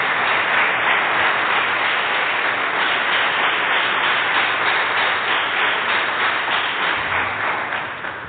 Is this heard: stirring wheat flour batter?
no